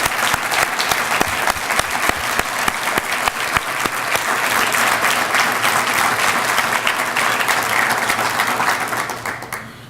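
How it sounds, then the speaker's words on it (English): Loud, sustained applause from an audience at a dedication ceremony, dense clapping that stays full and even for the whole stretch and only eases slightly at the very end. "let's give him a round of applause"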